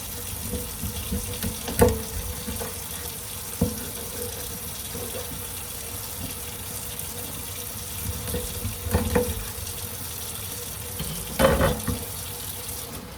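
Tap water runs steadily into a sink as tuna fish is washed, a constant soft hiss and splash with a few louder clunks and splashes of handling, fairly quiet and with no talk.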